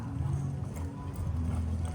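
Horse hooves clip-clop in a steady, regular jog on a loose rein during a demonstration at a horse expo, with a commentator speaking over the fairly close footfalls.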